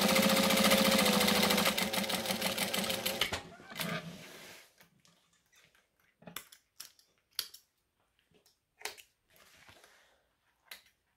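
A home sewing machine stitches an embroidery design, running loud and steady for about three seconds before stopping, followed by a few quiet, scattered clicks and handling sounds.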